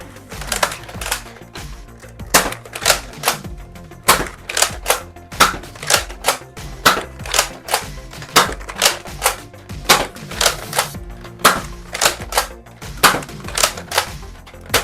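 An X-Shot Skins Lock Blaster toy dart blaster fires in a fast run of sharp plastic snaps, about two to three shots per second, loud and close, with clicking mechanism noise between shots.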